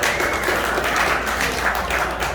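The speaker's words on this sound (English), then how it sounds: "give yourselves a round of applause" Crowd applause at a political campaign event in Minneapolis, a thick, continuous clatter of many hands at moderate loudness, heard alone without speech.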